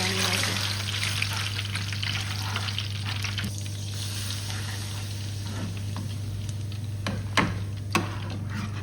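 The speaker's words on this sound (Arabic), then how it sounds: "وهعمل دي التقليه بتاعت الملوخيه، اديها طعم لذيذ وبنستفيد من الزيت والسمنه" Garlic sizzles in hot oil and ghee as a taqliya is made for molokhia. A dense, steady crackle runs throughout at close range, with a few sharper spits and clicks toward the end and no speech.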